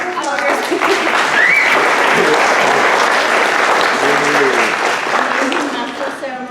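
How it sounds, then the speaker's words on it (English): A school district awards ceremony audience gives sustained, loud applause for an honoree named April, clapping steadily throughout with a little crowd noise mixed in. "just give her a round of applause"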